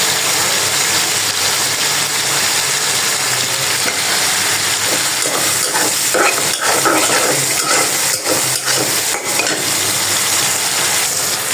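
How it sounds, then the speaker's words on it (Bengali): Spice paste being sautéed with tomato in a pan, cooking for an eggplant and potato curry, gives a loud, steady sizzle with scraping stirs throughout and no talk. "এই যে মশলাটা কষানো হচ্ছে, সাথে আমি দিয়ে দিব"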